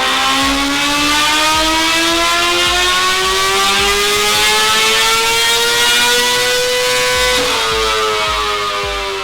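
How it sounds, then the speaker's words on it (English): A 2020 Honda CBR1000RR-R Fireblade SP motorcycle engine revs on a dyno run, a loud, close whine climbing steadily in pitch through the gears with a brief dip near the end and no talk. "We want to get this bike struck up and seeing what kind of power it's cranking out."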